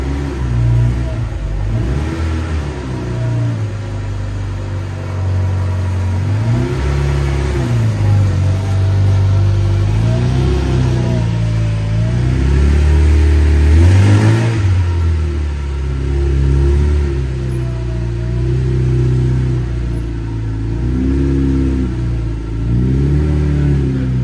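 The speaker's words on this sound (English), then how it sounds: "So this is actually a Seat Cordoba 2-litre 16 valve." A Seat Cordoba with a 2-litre 16-valve engine revs repeatedly, rising and falling in loud, close waves of mid-pitched engine roar over a deep rumble across about twenty seconds.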